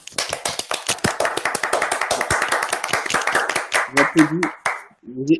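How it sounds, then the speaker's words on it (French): A single person taps one hand against the other in quick, even claps for a short burst of applause, close up. Around the four-second mark a voice speaks over the final taps. "je tapote avec mon autre main sur le reste de ma main gauche"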